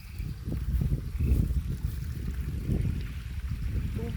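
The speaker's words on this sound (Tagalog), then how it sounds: "Usog ang tubig sa kanal." Stormwater flows and churns through a drainage canal after a typhoon, a continuous low gurgling rush with uneven surges, heard close by with no voices.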